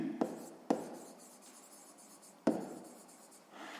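A pen writing on paper during a sixth-grade maths exercise, soft scratchy strokes punctuated by three sharp taps of the pen touching down, quiet and close.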